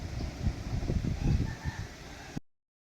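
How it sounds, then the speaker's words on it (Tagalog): Chickens cluck and murmur inside a coop in a rough, continuous patter, close by, before the sound cuts off abruptly. "Dito tayo sa kulungan ng manok."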